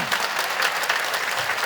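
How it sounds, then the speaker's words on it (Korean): A church congregation claps in sustained, dense applause at a Sunday evening service reporting on summer Bible school, the steady clapping filling the space without pause. "우리 함께하신 하나님께 영광의 박수를 올려드리겠습니다."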